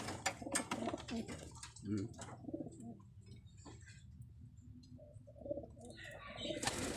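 Racing pigeons cooing and fluttering close by, with scattered chirps, soft scuffles and wing flaps in a quiet loft.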